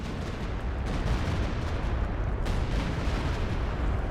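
Mines detonating during a 4v4 battle on the Hill 400 map in Company of Heroes 2, heard as a dense, continuous rumble of booming blasts and gunfire-like crackle, loud and sustained throughout with no talk.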